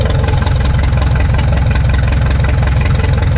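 A 1952 McCormick Super WD-6 tractor engine runs close and loud, a steady throbbing idle with even low pulses and no pauses, burning clean after warming up.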